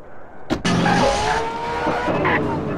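A motorcycle engine roars loudly and steadily in GTA San Andreas while tires skid and squeal, starting with a sharp onset and holding a continuous whine throughout.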